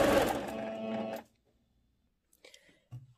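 A sewing machine stitches an elastic waistband on a skirt, running in a steady whirr for about a second before it stops, with a few faint handling sounds afterward.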